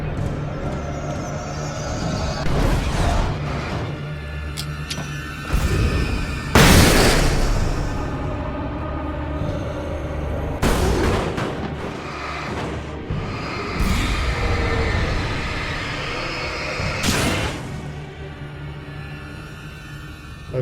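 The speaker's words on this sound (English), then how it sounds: "flashbang dealt with one of them and damaged the other" A flashbang detonates in the Alan Wake Remastered video game: a loud broadband boom with a sharp attack, set among several other bursts and pops over a rumbling game soundscape.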